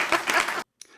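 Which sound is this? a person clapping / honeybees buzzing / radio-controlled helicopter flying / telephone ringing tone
a person clapping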